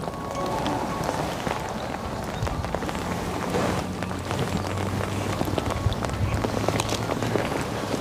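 Steady rain falls on a frozen lake with thin ice during a winter fishing session, a continuous broadband patter with scattered sharper drops throughout.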